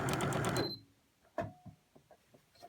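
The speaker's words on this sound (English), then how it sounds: "so now this machine will do a buttonhole" A sewing machine stitching a buttonhole on NHS scrubs whirs rapidly and loudly for under a second, then stops, leaving a few faint clicks and knocks.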